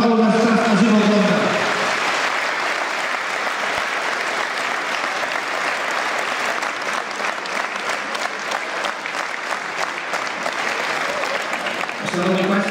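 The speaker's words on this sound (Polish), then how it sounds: "Ogromne oklaski, bo Paweł nas czas na żywo ogląda." Loud, sustained applause from a large crowd at a Christmas charity match event in Łowicz, steady clapping for about eleven seconds, with a voice speaking briefly before it begins and again as it ends.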